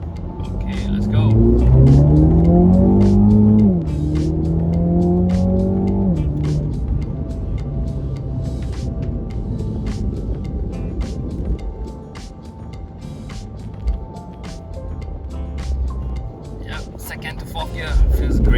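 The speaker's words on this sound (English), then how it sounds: "Acceleration, let's try it again. Second gear." A MINI JCW GP with 306 horsepower accelerates hard through second gear and up toward fourth, its loud engine note rising in pitch and dropping at each upshift, then settling into a steady roar.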